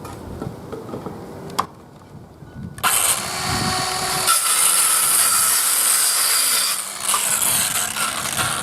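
A loud, steady, buzzing power-tool saw cutting through wood outdoors in a yard after a short quiet start, running continuously with slight changes in pitch and no talking.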